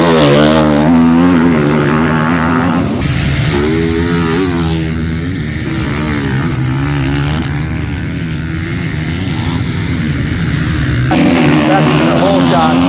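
A motocross motorcycle engine revs hard and holds a loud, buzzing drone while the rider warms up the rear tire, the pitch rising and falling, close up and continuous.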